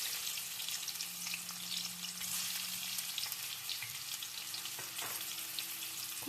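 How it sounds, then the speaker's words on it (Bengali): Onions frying in a pan as the first step of a mutton curry, a steady close hiss of sizzling oil with small crackles and a few light stirring clicks. "এই যে প্রথমে আমরা পেঁয়াজগুলো ভেজে নেব।"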